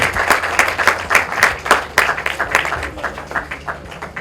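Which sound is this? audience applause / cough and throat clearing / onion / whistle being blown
audience applause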